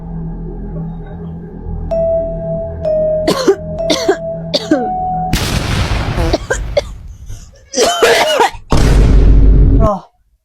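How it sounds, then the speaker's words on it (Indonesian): Several loud, harsh coughs in quick bursts, some overlapping, with background voices and a sustained tone early on. "gak kebanyakan itu batuknya"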